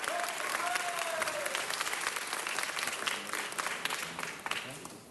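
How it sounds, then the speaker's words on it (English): An audience at a city council meeting claps in a steady, dense round of applause lasting several seconds, with a brief voice audible near the start before the clapping tapers off slightly. "Big round of applause for Lewis McAdams."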